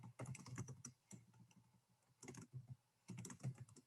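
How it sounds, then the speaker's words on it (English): Typing on a computer keyboard, a steady run of close, crisp key clicks in bursts with short pauses between them, no voices over it. "what I'm doing is I'm typing this because it's going to be some information that comes up in the session"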